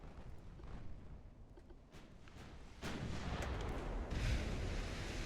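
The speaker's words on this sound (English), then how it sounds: "Drake is returning fire." Warship guns firing in the naval battle game Ultimate Admiral Dreadnoughts, with a few sharp distant reports over a constant low rumble that grows louder and denser partway through, with no voices.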